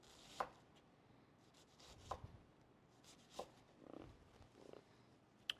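A chef's knife riding through food onto a cutting board, giving a handful of soft, evenly spaced chops with quiet rubbing between them, faint and close, with no speech.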